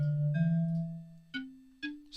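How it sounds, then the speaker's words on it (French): An alto xylophone voice plays back in MuseScore notation software: a sustained low tone followed by struck bar notes at moderate volume, with three distinct mallet strikes, each rising slightly in pitch, clean and alone with no voices. "on revient au son de xylophone alto"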